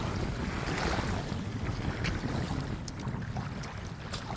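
Ocean waves wash and surge continuously with broad rushing noise and steady wind, loud and close with no voices.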